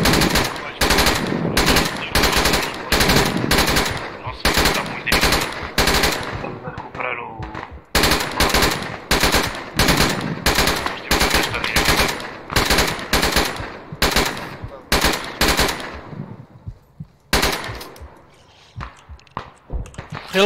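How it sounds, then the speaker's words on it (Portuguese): Sustained machine-gun fire in the ARMA 3 military shooter, loud close bursts of rapid automatic shots repeating with short pauses between volleys. "podes queimar a munição à vontade"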